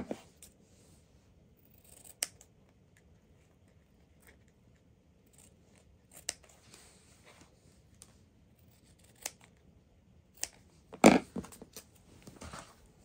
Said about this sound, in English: I'm going to trim it some more